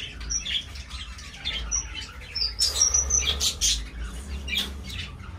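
Pigeon chicks chirp and squawk close by in a rapid run of short, high calls, some overlapping, with no talking over them.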